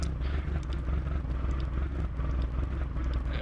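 A classic car in Gran Turismo 4 gives a steady, loud rumble of engine revving at high RPM, rough and buzzing with slight pulsing as the throttle is worked, with no pauses and no talk.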